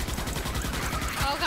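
Rapid automatic gunfire in the video game Starship Troopers: Extermination, a fast rhythmic stream of close, loud shots running throughout with the chaotic noise of battle.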